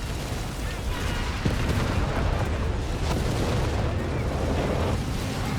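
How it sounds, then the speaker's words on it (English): A Luftwaffe artillery barrage in Company of Heroes 3, a dense continuous rumble of blasts and distant bangs rolling on beneath a commentator's voice. "And a Luftwaffe barrage as well there."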